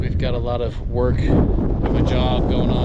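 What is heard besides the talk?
wind blowing into microphone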